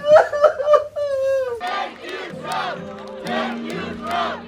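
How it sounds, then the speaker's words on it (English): Crowd gathered in Hostage Square, Tel Aviv, cheering and shouting during coverage of hostages returning home, loud swelling waves of voices and cries from a large group. "Cheers erupted in Hostage Square in Tel Aviv as crowds gathered to watch coverage of the hostages' return and President Trump's speech"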